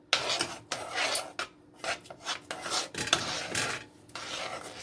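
A spoon scrapes and stirs a thick no-bake cookie mixture with melting peanut butter in a pot, in steady rasping strokes broken by brief pauses, close and moderately loud with no talk.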